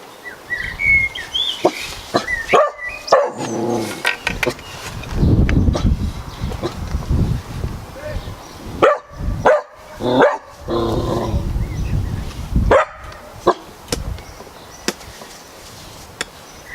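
A dog barks at a polythene bag, close and loud, in repeated bursts of sharp barks separated by short pauses.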